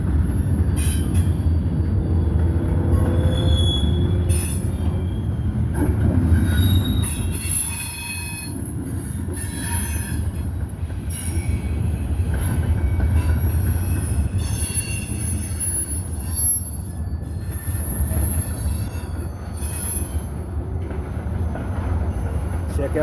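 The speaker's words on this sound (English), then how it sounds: "as the train crossed over from the number 2 track to the number 1 track" A Norfolk Southern manifest freight train rolls past at Hamilton, Ohio, crossing from one track to another, with loud sustained wheel squeals and a heavy rumble throughout, a voice speaking faintly underneath.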